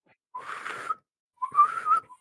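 Two short bursts of breathy whistling from a person struggling to whistle, each about half a second long and separated by a brief pause, airy and uneven rather than a clean tone, close to the listener.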